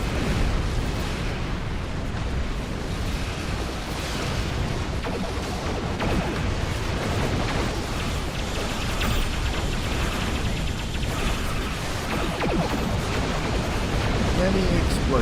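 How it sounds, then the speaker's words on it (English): Dense, continuous barrage of video game explosions and bursts during an evacuation ship launch, loud and sustained throughout with heavy low rumble and crackling debris, no pauses between blasts. "Many explosions."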